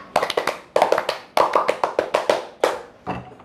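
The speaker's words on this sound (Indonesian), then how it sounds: "Kalau lihat baju pramuka jadi teringat tepuk pramuka." Indonesian scout rhythmic clapping (tepuk pramuka): a group claps sharp patterned bursts of quick claps separated by short pauses, close and loud, with no talk.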